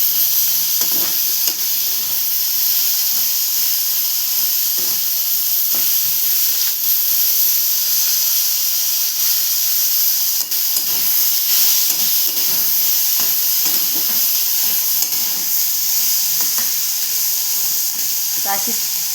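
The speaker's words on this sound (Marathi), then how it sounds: "आता अशीच परतवून घ्यायची ती." Ivy gourd (tondli) sautéing in a pan over low heat, with a steady, soft sizzle and hiss throughout and occasional scraping as it is stirred.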